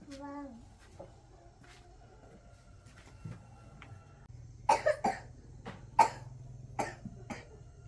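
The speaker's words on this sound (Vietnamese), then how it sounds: "Ô, mình bị ho rồi nhá." A young girl coughs in a small rural home, several sharp, separate coughs in a short cluster near the end, with faint background noise and quiet talk around them.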